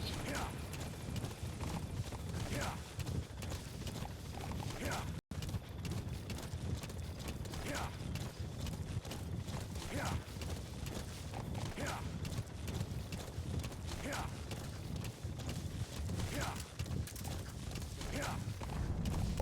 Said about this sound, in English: So this is the longest horse ride in the game to get into the mission area.